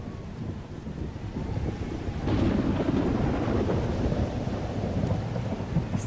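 A thunderstorm rolls through in Life is Strange Double Exposure: steady rain and wind hiss with a deep thunder rumble swelling in the middle and lingering low, continuous and fairly loud, with no voices.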